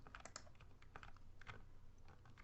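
Cursor keys on a computer keyboard are pressed in quick, irregular clicks during 3D navigation in Unity, close and fairly quiet, with no talking.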